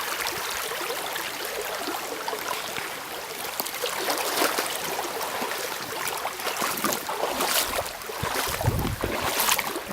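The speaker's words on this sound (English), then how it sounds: "the flow of this little creek we have" A little creek in the Colombian countryside flows close by with a steady, broad rushing and gurgling of water, fairly quiet and continuous, with no voices.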